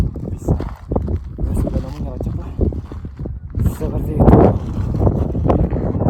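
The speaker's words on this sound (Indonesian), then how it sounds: "Semakin tinggi semakin anginnya kencang." Strong, cold gusty wind high on Mount Ararat in Turkey buffets the microphone in loud, uneven surges, with a person talking throughout over the roar.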